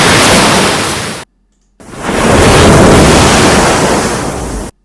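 AI-generated ocean waves crash and surge as broad, loud roaring washes, two long bursts separated by a short silent gap, with no voices.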